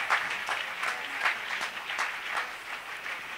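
A church congregation at a Sunday service claps in a steady, rhythmic beat, a moderately loud, even applause lasting a few seconds with no one speaking over it.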